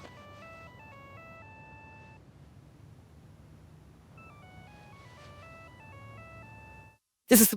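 A cell phone ringtone plays a melodic beeping pattern twice over a faint background hum, followed by a sudden loud burst at the end.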